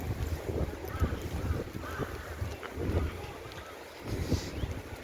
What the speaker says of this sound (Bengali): প্রচুর পরিমাণে ঠান্ডা হাওয়া দিচ্ছে এখানটায়